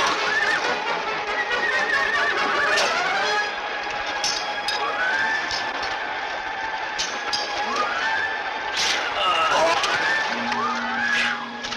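Horses in a classic Roman Empire peplum film scene neigh and whinny repeatedly over a busy bed of hooves and jingling tack, loud and close, with a horn-like tone near the end.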